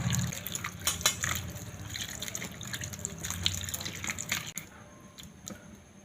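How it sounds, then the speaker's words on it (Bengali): Raw papaya is washed under running water, a steady splashing and trickling with scattered drips and knocks, fairly quiet and up close, fading toward the end. "পেঁপেগুলো জল দিয়ে ভালো করে ধুয়ে নেব"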